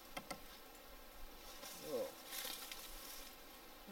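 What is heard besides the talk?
bees buzzing around a bee's nest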